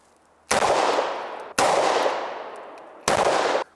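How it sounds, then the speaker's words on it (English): Three loud, sharp .38 Special revolver shots fired at a ballistic plate, evenly spaced about a second apart, each a sudden crack followed by a long decaying echo. "back on the wheel gun, we got 38 special"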